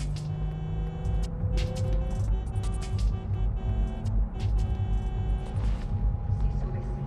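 A car engine in Cyberpunk 2077 hums steadily at low pitch, joined by bursts of clatter and impacts, while voices talk over it throughout.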